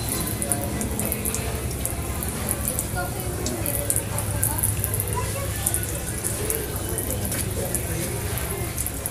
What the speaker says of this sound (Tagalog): hugasan natin siya ulit ng water